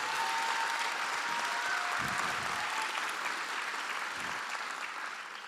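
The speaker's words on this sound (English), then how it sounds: "Let's give them a big round of applause." Audience at a startup competition final in Virginia gives a big, sustained round of applause, dense and even throughout, thinning slightly toward the end.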